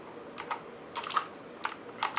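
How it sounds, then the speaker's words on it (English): Typing on an ABKO Hacker K2000 mechanical keyboard with blue switches: crisp, bright clicky keystrokes arrive in short bursts with brief pauses, close and alone. "This is mechanical keyboard."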